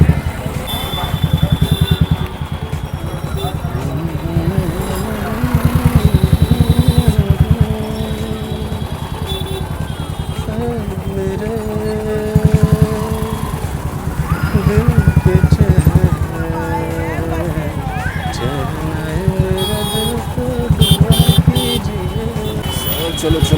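Scooters, motorbikes and larger vehicles crawl through a jammed market street. Engines idle and rev close by in a continuous mix, while a person talks over the traffic.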